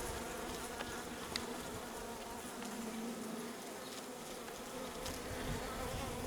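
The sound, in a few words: honeybees buzzing on a hive frame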